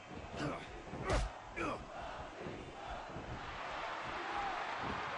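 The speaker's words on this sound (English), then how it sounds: "Crowd cheering for Batista, Ultimate Warrior." A wrestling crowd cheers at a live event, with a few sharp loud bursts of shouting early on and a sustained roar of many voices settling behind them.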